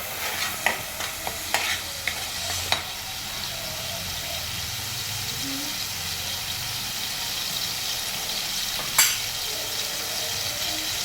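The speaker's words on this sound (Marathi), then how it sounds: "आता हे चांगलं तेल सुटेपर्यंत परतून घ्यायचं आहे आपल्याला व्यवस्थित" Tomato puree frying in oil while being stirred in a pan, a steady sizzle underneath with several crisp scraping clicks of the spoon early on and one more later, close and moderately loud.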